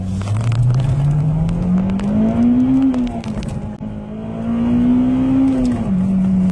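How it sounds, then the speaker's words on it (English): A Honda Civic Type R accelerates hard from a standstill toward 60 mph, its engine note climbing loudly through the revs, dropping at a gear change, then rising again. The car sounds close and loud throughout. "Now let's check out the 0-60 time of the Honda Civic Type R."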